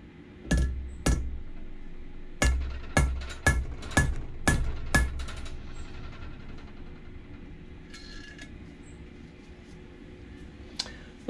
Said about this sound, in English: Let's find a nut and straighten it slightly.